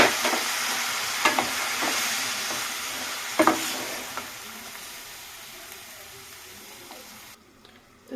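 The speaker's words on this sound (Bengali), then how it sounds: "এবার সেটি একটু নাড়িয়ে চাড়িয়ে অল্প সামান্য জল দিয়ে দেবো যাতে না তলায় লেগে যায়" Bengali fish curry with drumstick stems, potatoes and bori is stirred in a pan. A steady sizzle carries scattered utensil scrapes and knocks, then quiets sharply near the end.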